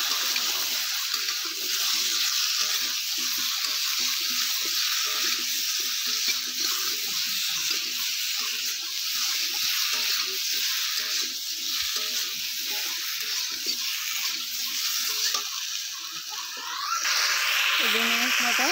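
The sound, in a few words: sautéing cucumber curry with turmeric in a pan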